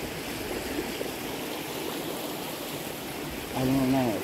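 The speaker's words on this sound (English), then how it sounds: "it's kind of hard to hear with this river" A river flows outdoors in Appalachia, a steady broadband wash of rushing water that stays constant throughout, with a brief voice-like sound rising above it near the end.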